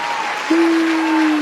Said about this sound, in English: Artificial applause, Clay.